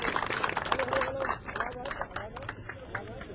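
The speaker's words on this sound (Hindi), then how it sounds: "तालियों के साथ वेलकम कीजिए।" A crowd at a political party membership event claps in a dense burst of applause that thins and scatters over a few seconds.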